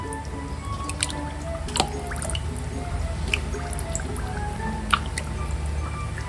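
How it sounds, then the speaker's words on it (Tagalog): Salted mackerel being placed into a container for homemade tinapa, heard as soft wet squishes and a few sharp drips over a low steady background hum. "Akin na po ditong ilalagay po itong mga buraw na isda para po nababatad na."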